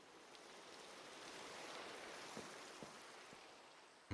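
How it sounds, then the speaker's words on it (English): Rain falls in the Minecraft video game as a soft, steady hiss of broadband patter, faint and even throughout, with a few light ticks near the end. "Might be able to have ourselves a rainbow really soon, once this rain finishes up."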